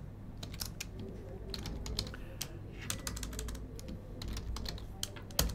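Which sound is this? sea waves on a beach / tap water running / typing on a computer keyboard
typing on a computer keyboard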